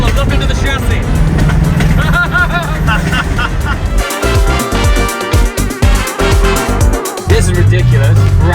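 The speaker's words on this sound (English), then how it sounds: "Listen to this Nissan Patrol." A Nissan Patrol's engine roars loudly and close on a road rally, revving and surging with choppy bursts of throttle amid heavy road noise and other passing vehicles.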